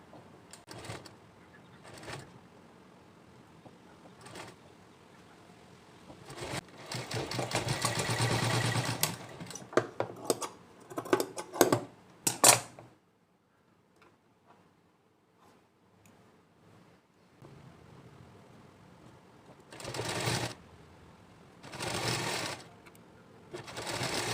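A sewing machine runs in bursts while stitching gathers into the sleeve of a child's ghoti-sleeve blouse. There are a long continuous run, several short rapid stitching spurts, a quiet pause, and then two more bursts close by.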